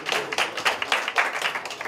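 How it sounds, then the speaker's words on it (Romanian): Party guests clap for the godfather, a short burst of close, uneven hand claps with voices mixed in. "Aplauze pentru nașul nostru!"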